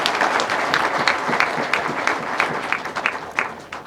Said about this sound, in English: May I request us all to appreciate Honorable Ndemo with a round of applause